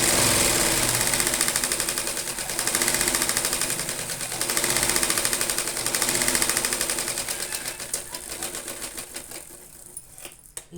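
A sewing machine stitches the back neck joint of a blouse, a close, loud, rapid mechanical chatter that swells and eases in speed before slowing and stopping near the end.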